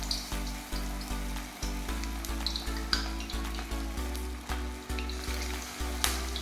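Cylinder-shaped pieces of vegetable mix deep frying in hot oil for veg Manchurian in a home kitchen, with a steady close bubbling sizzle and repeated soft clunks and taps of utensils throughout.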